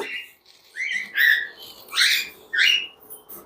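Several loud, shrill ringneck parrot calls sound close by in short bursts, separated by brief pauses.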